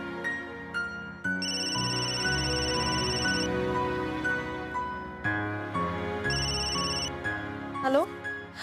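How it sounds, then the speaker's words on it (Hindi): A telephone rings in repeated bursts of a bright electronic tone over layered background music, with short gaps between rings. "गौरी, फोन उठाओ"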